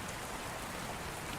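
Gentle rain falling in an ancient forest, a soft, steady patter of drops that stays even and continuous with no voices or thunder.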